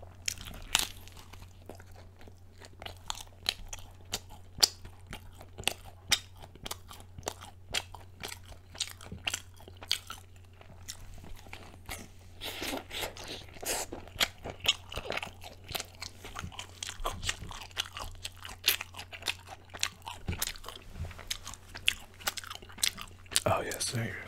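Close, crisp crunching and chewing while eating egg and mushroom wraps, a dense irregular run of bites and mouth sounds throughout, mostly without talk.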